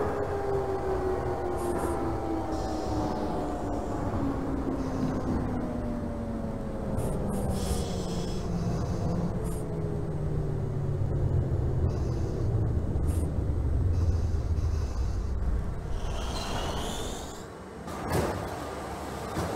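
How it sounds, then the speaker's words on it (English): A Brooklyn-bound J subway train in the OpenBVE simulator hums and rumbles as it gathers speed, its motor whine gliding through falling pitch, with door clunks and chimes near the end. "This is a Brooklyn bound J train."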